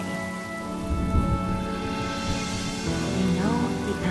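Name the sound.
rain in Honkai Star Rail video game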